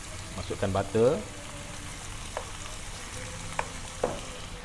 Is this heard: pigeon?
no